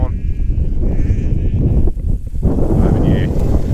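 Sheep and lambs bleat at feeding time on a farm, several loud overlapping calls up close with gusts of wind buffeting the microphone throughout.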